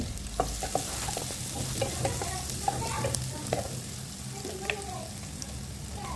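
Chopped onion and green chili fry in hot oil in a wok, giving a steady, moderately loud sizzle with occasional sharper spits and crackles, with no voices.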